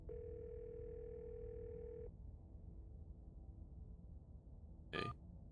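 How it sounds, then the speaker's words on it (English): A steady telephone dial tone from the Scarlet Hollow video game sounds after a call drops, holding for about two seconds before cutting off, then a brief sharp clatter near the end. "You hear something drop violently on the floor on the other end, and then a dial tone."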